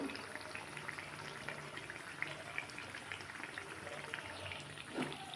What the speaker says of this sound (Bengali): আমি এইভাবেই সবগুলো ভেজে নেব